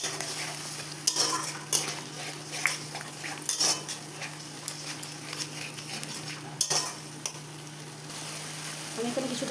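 A spoon stirs a vegetable biryani mixture with chili powder and sour yogurt in a metal pot, giving repeated scrapes and clinks over a soft background hum and a faint sizzle.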